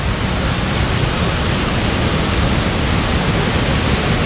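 Tad Kuang Si waterfall near Luang Prabang, Laos, heard as a loud, dense, unbroken roar of falling water close by, with no voices or other sounds.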